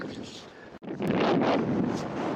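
Strong wind gusts across a cold, cloud-covered mountain slope, buffeting the microphone in a rough, close roar that dips for a moment and then surges back louder.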